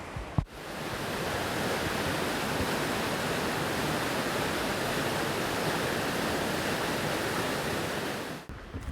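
Waterfall at Buck Falls near Bathurst, a dense, continuous roar of falling water filling the whole clip, close and steady with no voices.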